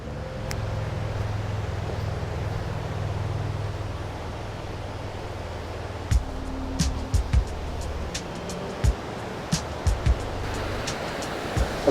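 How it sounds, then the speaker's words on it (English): Water tumbling over a small, low waterfall outdoors in Ontario gives a steady broadband rush throughout, with a few sharp knocks and clicks close by in the second half. "Luckily, there was another spot nearby, a small but real waterfall."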